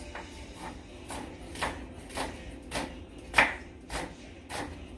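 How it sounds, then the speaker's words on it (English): A knife chops onions on a board in a steady rhythm of about eight crisp, evenly spaced strikes, close and clear over a low background hum. "I cut my onions first"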